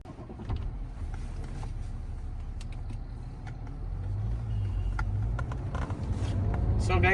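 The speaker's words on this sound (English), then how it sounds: "I'm driving this BMW 530d F10" A BMW 530d F10 cruises along with a low, muffled engine and road rumble from inside the cabin, rising slightly in level partway through, with occasional light clicks and knocks.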